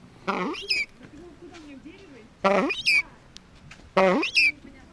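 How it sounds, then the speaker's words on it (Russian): Parakeets in an aviary on a lavish estate give three loud bursts of harsh squawking and chattering calls, close by, separated by short pauses with a low voice murmuring in the background. "Попугайчики."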